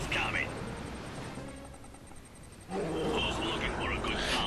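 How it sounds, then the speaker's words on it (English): A roaring unit attack in the real-time strategy game Command and Conquer Red Alert 3: a loud, rough roar mixed with dense game noise and battle sounds, swelling again near the end. "Now he used his roar on my bear and killed it."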